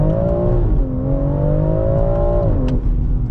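A 2020 BMW X3M Competition SUV accelerating hard from inside the cabin, its engine note climbing steadily with a loud, continuous drone and a brief dip as it shifts near the end.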